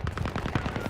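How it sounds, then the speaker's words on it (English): A fully automatic Jackhammer shotgun fires in a video game, a rapid, even burst of about a dozen punchy shots packed into one second, steady and fairly loud with no talk over it. "Christopher, you're using a fully automatic shotgun"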